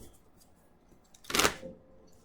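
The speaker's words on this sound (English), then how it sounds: "So as I'm shuffling these cards" Tarot cards being shuffled by hand, a single short riffling burst of papery flutter in the middle, close and fairly loud against a quiet room.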